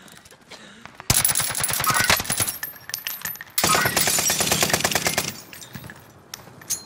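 Automatic gunfire in Call of Duty: Modern Warfare, two long loud bursts of rapid shots fired at close range with brief quieter gaps, ending in fading echoes.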